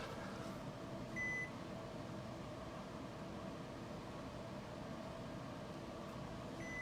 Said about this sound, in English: And we'll set the timer for 45 minutes.